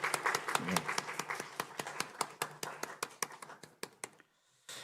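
Church congregation claps to encourage Sunday school teachers and leaders, a brisk run of distinct handclaps that thins into a few sparse claps and fades to near silence, with a voice briefly audible early on.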